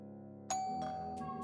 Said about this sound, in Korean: 띠링하고 초인종이 울리더군요.